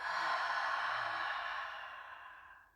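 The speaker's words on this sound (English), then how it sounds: "Long exhale through the mouth." A long, breathy exhale through the mouth, loud and close, drawn out for nearly three seconds and tapering softly at the end, with no talking.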